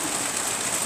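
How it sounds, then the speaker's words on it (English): Steady hiss of rain falling outside, a dense even wash of drops with no breaks, fairly loud and close for under a second, no voices. "we got a lot of rain coming in down here"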